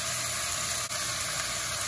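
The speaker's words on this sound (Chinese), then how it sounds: "然后把胡萝卜和沙壳丝放进去，翻炒一下" Carrots and shredded vegetables stir-fried in a wok give a steady, close sizzle with a continuous hiss.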